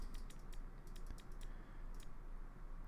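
Rapid computer mouse clicks while leveling skill nodes in Marvel Heroes Omega on PC: a quiet series of crisp, evenly repeated taps in small clusters over faint background hiss, no speech.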